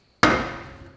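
A hammer strikes a steering knuckle on a John Deere 1640 MFWD tractor, one sharp close metallic blow that rings and decays over about a second.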